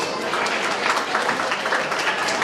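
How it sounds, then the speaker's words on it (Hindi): An audience at an educational seminar gives a continuous round of applause, a dense, loud wash of many hands clapping from start to finish. "Give a huge round of applause."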